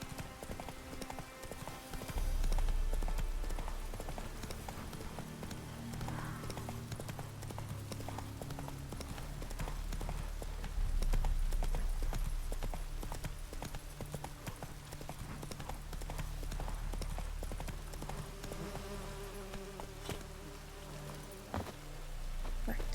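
Roach, the horse in The Witcher 3: Wild Hunt, gallops in a steady, rapid clip-clop of hooves that runs continuously throughout the game scene, with faint background ambience.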